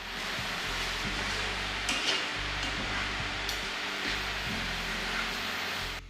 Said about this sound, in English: Give it a final stir and remove the skillet from the heat.